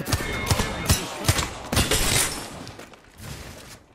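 Apex Legends gunfire rattles out in a rapid string of sharp, close shots in the first two seconds, then thins into a few scattered, fainter bursts.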